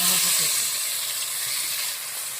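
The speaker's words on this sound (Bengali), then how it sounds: "এরপরে আমি তো মশলা ধোয়া জল দিয়ে দেবো অল্প করে।" Spice-rinse water hits a hot pan while a Bengali country-chicken curry cooks, raising a loud, steady sizzle with hissing steam that eases off slightly toward the end.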